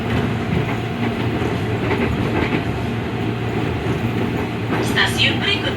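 KRL commuter train on the Bogor line near Depok Baru station, heard from inside the carriage: a steady loud rumble with rhythmic clickety-clack of the wheels, under a voice making an announcement.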